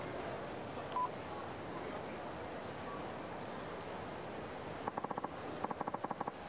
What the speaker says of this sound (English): A phone call at a time like this?